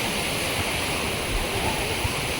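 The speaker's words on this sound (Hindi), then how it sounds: "यहाँ की लहरें ना बाकी सारे बीच की तरह हैं शायद।" Sea waves at Miramar Beach in Goa make a steady, dense roar of surf and wash, loud and continuous with no distinct breaks or voices.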